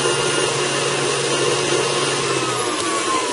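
An electric mixer's beater whirs continuously in chocolate chip cookie dough, a steady loud motor drone with no pauses.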